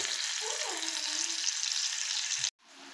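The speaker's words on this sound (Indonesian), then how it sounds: "Tumis sampai harum," Spice paste sautés in oil in a pan with a steady, loud hiss and crackle, then cuts off abruptly near the end, leaving a quieter low background.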